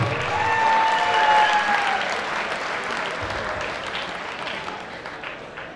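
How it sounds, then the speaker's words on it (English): An audience at the 2022 IFBB Pittsburgh Pro bodybuilding show applauds a guest poser, with loud sustained clapping and some cheering that swells early and then slowly tapers off. "Give Mr. Derek a big round of applause one more time"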